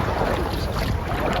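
Steady low rumble of a tour boat engine on the water at Trang An, Ninh Binh, Vietnam, with water and wind noise, continuous and fairly loud throughout.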